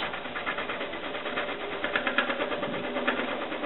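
A Woodcut bowl corer feeds into wood spinning on a lathe at about 750 rpm, giving a loud, steady, gritty grinding noise with small recurring chatter and no voices.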